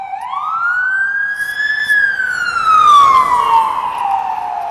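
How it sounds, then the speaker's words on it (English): A loud wailing emergency vehicle siren rises in pitch, then slowly falls as the vehicle passes close by on a busy street, with traffic rumble underneath. "Oh, we got some sirens coming through."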